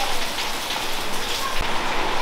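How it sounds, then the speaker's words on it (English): Steady rain falls and patters on surfaces outdoors, a dense continuous hiss with occasional closer drips, and no talking. "it's only the sound of the rain and chattering women."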